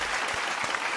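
Brief burst of audience clapping and cheering in a podcast studio setting, dense and steady throughout, close and fairly loud with no speech over it.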